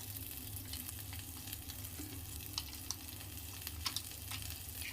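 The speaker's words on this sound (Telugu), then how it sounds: "నెక్స్ట్ ఈ బండిలో బటర్ వేసుకోండి." Butter melting in a pan for paneer butter masala gives a faint, continuous sizzle and frying hiss, with a few brief clicks and stirring scrapes near the end and no talking.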